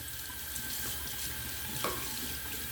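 Cold water runs steadily from a bathroom tap into a sink for rinsing after a wet shave, a continuous close splash with no talk.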